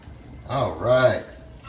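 Raw shrimp hitting a hot pan set off a sizzle with spices, swelling in two short surges over steady frying hiss, with a brief voiced sound over the top.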